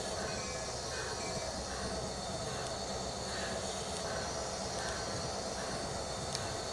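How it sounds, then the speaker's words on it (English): Trains running on tracks in Transport Fever 2, a steady rumbling rail roar with faint wheel squeals and light clicks, continuous and moderately loud throughout. "Stop this train so this train can at least get into the station."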